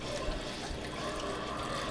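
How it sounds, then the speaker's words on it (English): Water poured over peach skins and pits in a pot for syrup, a continuous close trickling and gurgling pour at steady volume with no talk. "we're just going to pour."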